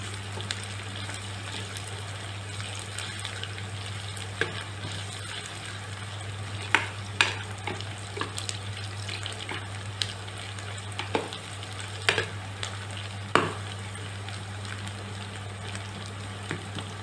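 Ginger frying in hot oil for an egg sweet and sour dish, a steady soft sizzle with scattered crackles and pops, alone with a low constant hum underneath.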